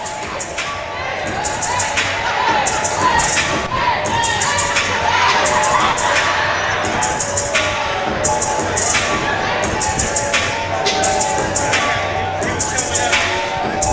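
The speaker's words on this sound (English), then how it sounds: "And the crowd trying to cheer it on here," A college basketball crowd in a gym shouts and cheers continuously near the end of a close men's game, with sneaker squeaks and ball thuds mixed into the steady roar.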